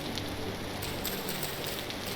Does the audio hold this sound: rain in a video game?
yes